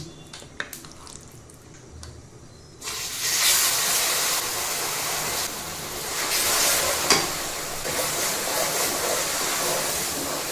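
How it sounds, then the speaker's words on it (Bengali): Soaked tamarind tipped into hot oil with fried panch phoron spices for a raw mango pickle: a few quiet clinks and stirs, then a sudden loud, steady sizzling hiss that keeps going with faint spoon scrapes. "পাঁচফোড়নটা বেশ ভালোভাবে ভেজে নেওয়া হয়ে গেল এবার আমি আগের থেকে ভিজিয়ে রাখা সেই তেঁতুলটুকু দিয়ে দিচ্ছি"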